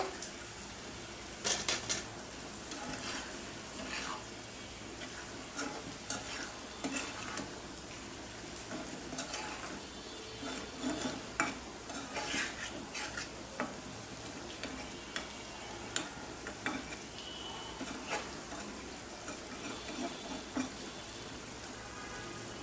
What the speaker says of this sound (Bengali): এখন মলা মাছগুলো দিয়ে দিলাম, দিয়ে একটু নাড়া দিয়ে ঢাকনা দিয়ে ঢেকে দিব।